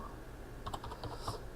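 Quick light keystrokes on a computer keyboard, a short burst of a few clicky taps close by, with a faint background hum and no speech.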